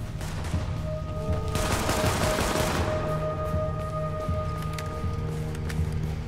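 Gunfire rattles in a video game extraction shooter, a sustained volley of overlapping shots under a steady background hum, moderately loud throughout.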